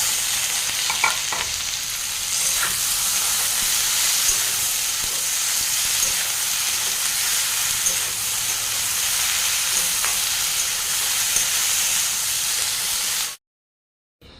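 Eggplant frying alongside potatoes in a pan, a steady broadband sizzle with occasional stirring scrapes, close and continuous before cutting to silence at the end.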